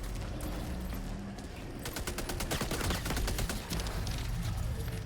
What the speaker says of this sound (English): Walking in front of machine gun sentry for funsies.